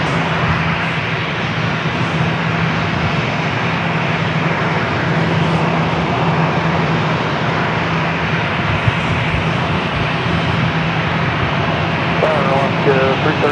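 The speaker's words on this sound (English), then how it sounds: "We got the Delta A321 heading to Detroit." Delta Airbus A321 jet taking off at San Diego airport, a loud, steady engine roar that fills the whole clip without letting up, with a constant low hum underneath.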